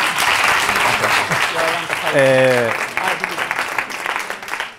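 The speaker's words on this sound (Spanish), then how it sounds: "un fuerte aplauso para Javier Agüera" An audience gives a strong round of applause for a speaker at a talk, dense clapping throughout, with a voice briefly heard over it.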